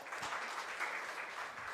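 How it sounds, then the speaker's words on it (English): An audience claps steadily, a dense wash of applause that holds at an even level throughout with no talking. "I think he needs a big applause for that"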